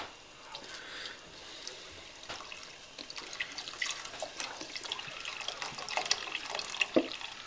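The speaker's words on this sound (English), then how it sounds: "I'm going to add 32 ounces of stock." 32 ounces of stock pour into a stew pot as a soft, continuous liquid splash with small drips and glugs, building slightly louder toward the end, close and quiet.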